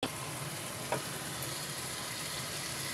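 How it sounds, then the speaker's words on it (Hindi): Spinach, fenugreek, dill and minced meat bhaji fries in a pan with a faint, even sizzle that holds steady throughout, with one soft stir or scrape early on and no voices. "भाजी एकदम अच्छे से अपनी भून गई है।"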